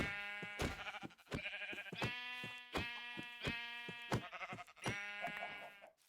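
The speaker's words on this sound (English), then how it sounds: "I see a sheep over here." Repeated Minecraft sheep bleats, several drawn-out calls one after another with short gaps, loud and close, with no talking.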